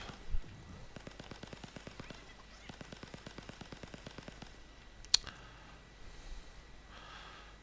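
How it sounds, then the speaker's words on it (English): Rapid sped-up sniper rifle fire in the World War Z game, Tokyo Setting Sun map, comes as a long even run of sharp cracks, then a pause, another burst and a single louder shot near the end. "The sniper sounds amazing, sped up."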